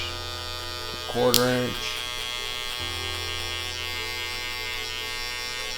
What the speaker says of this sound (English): Then we'll come in with our clipper, make sure the lever's open.